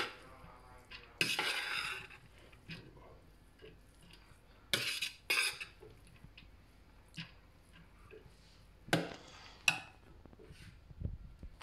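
Chicken fried rice being stirred in a pan, with a utensil clattering and scraping against the metal in scattered, irregular bursts between quieter moments.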